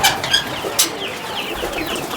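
Pigeons at a fancier's loft make soft, low cooing sounds in short bursts, fairly close and moderately loud, with faint background noise and no clear talk.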